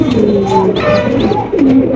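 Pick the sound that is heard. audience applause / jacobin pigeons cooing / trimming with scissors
jacobin pigeons cooing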